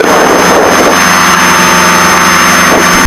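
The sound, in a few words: Piper Seneca aircraft engine running while warming up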